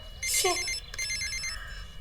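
A telephone rings loudly in a bright electronic trill, two bursts close together against a low background hum, with no talking.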